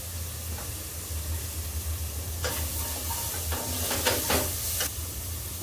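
Crushed ginger-garlic paste frying with salt in a hot pan, a steady sizzle that flares into louder crackling bursts as it is stirred, close up in a home kitchen.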